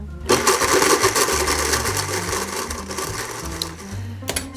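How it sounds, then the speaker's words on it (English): Electric blender whirring as it crushes Oreo cookies into crumbs for a cheesecake base, a loud continuous motor drone with grinding texture starting after a brief pause and running steadily throughout. "Okay, so I start the blender."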